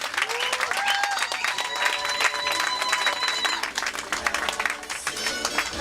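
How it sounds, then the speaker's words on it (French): Wedding guests clap and cheer for the groom, a dense, sustained round of applause from a crowd with scattered voices mixed in. "Est-ce que nous pouvons encore une fois acclamer le marié?"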